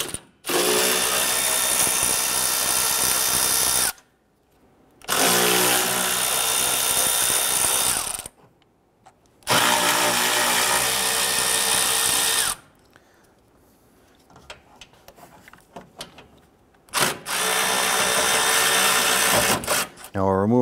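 Power tool spinning out a series of 10 mm bolts from the radiator support on a 2012-2017 Toyota Camry, loud whirring bursts in four runs separated by brief pauses, with quieter handling noise in between.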